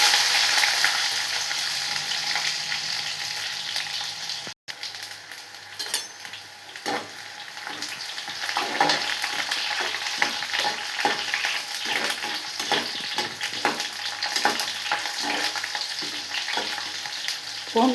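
Garlic and broken dried chillies sizzle in hot oil with mustard seeds in a pan while a garlic-tomato thokku is being made. The frying hiss is steady and close, joined by clinks and scrapes of stirring that grow more frequent in the second half.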